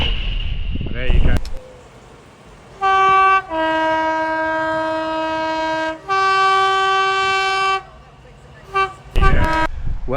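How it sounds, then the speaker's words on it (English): Freightliner class 66 locomotive 66585 hauling an aggregates freight train through Bedelands in a storm: two long sustained horn blasts dominate, with low engine rumble and wind-buffeted noise around them, passing close and loud. "That was Freightliner 66585 with 6M53 from Newhaven Day Aggregates to Wembley Receptions."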